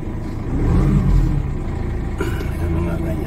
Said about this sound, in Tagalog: Makina niyo, hindi masyado maingay.